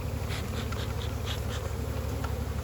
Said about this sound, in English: Touchy these bees.